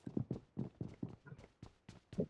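Horse hooves clip-clopping in the mobile battle royale game BGMI, a steady series of about ten crisp, hollow hoof strikes in a trotting rhythm, close and clear with no talk over them.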